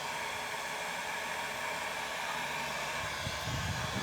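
A heat gun blows hot air onto dresser glue to soften it, a steady close-up hiss of rushing air that holds constant throughout, with a faint low rumble creeping in near the end.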